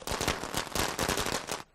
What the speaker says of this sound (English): We've got the Chinese firecracker!